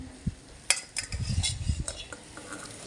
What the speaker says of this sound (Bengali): মাছের মাথা আর তেল ওগুলো দিয়ে দেবো এবার